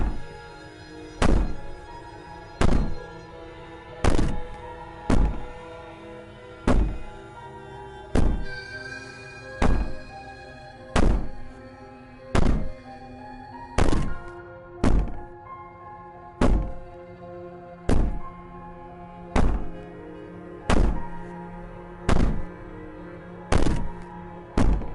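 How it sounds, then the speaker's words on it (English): Heavy, hollow knocks bang on a door in the video game Slay the Princess, landing about every second and a half in a steady, unhurried rhythm across a long stretch with no speech. "Maybe the banging and wailing will stop if you just don't pay attention to it."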